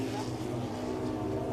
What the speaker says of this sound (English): we got cars passing us